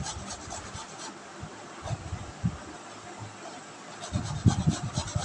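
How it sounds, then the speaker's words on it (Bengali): A raw potato is rubbed against a grater to draw out its juice, producing uneven rasping strokes that grow louder and quicker toward the end. "দেখো আমি আলুটা কষে এর থেকে রসটা বার করে নেব"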